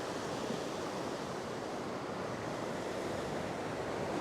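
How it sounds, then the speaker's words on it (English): Ocean waves break against a rocky shore in a continuous, loud rush of white water close by, mixed with wind buffeting the microphone, and no voices. "keeping my eye open on those waves to my right"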